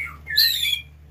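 An old white-rumped shama, or murai batu, in a cage gives a loud, close, bright whistled phrase, one short burst of song over a low steady hum.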